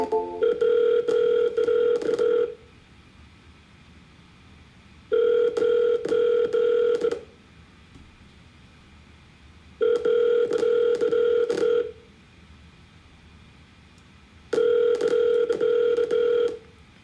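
During a sales cold call, an outgoing phone line rings back in four steady two-second tone bursts separated by longer silent gaps, loud and clear with no talking over it.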